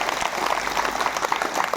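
Applause from the gathered crowd at a yoga camp in Kachan, steady dense clapping filling the whole moment, moderately loud and sustained without a break.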